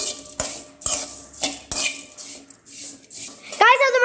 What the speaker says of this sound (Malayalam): നമുക്ക് നല്ലോണം മിക്സ് ചെയ്യാം നല്ലോണം വറുത്തെടുക്കണം